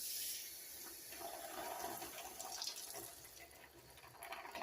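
Half a cup of water poured into a skillet casserole of stuffed peppers, a steady splashing, running pour heard close and alone for several seconds.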